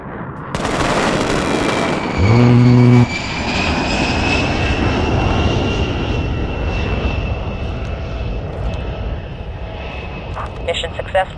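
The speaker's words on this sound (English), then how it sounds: "I think the plane is coming now." An airstrike aircraft in the Squad military game sweeps overhead with a loud, rising jet roar. It begins abruptly, holds strong through the pass, and fades slowly, with a brief blast-like burst near the start and a voice speaking intermittently over it.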